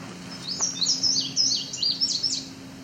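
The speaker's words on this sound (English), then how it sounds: "So that's indigo bunting, male, very deep blue color, almost iridescent, if not iridescent." A male indigo bunting sings a quick series of paired, high sweet phrases near Otter Lake, the song carrying clearly over a faint steady hum.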